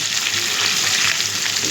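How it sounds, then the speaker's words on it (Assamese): Fish frying in a pan of hot oil, a steady, dense sizzle and crackle that stays loud and close throughout, with no voices over it. "মাছখিনি আনিলে ধুনীয়াকৈ মাছ ফ্ৰাই কৰি আছোঁ"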